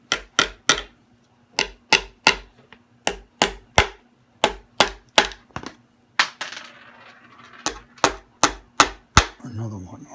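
Sharp metal hammer taps drive new F-type tuners into the headstock of a Fender Squier HSS hardtail guitar, coming in quick pairs and triplets, close and distinct, with a brief shuffling noise in the middle and a small clatter near the end.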